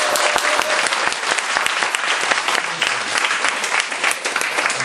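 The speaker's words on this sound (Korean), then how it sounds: "박수." A church congregation applauds during an evening worship service, with steady, dense clapping from many hands that holds loud and even throughout, with no talk over it.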